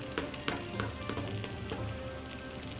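Crackling, popping sizzle of crispy pork belly in an air fryer, steady and close, with scattered sharp pops over a continuous frying hiss.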